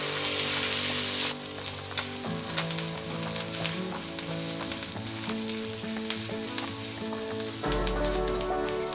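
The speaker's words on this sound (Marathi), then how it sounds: "हा कांदा जरा मऊ होईपर्यंत छान असा परतून घ्यायचा आहे आपल्याला" Onion sizzles in a pan while being sautéed until soft for stuffed brinjal, a steady frying hiss under tonal background music.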